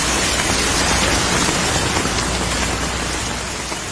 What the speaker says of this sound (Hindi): वर्षा करवा दी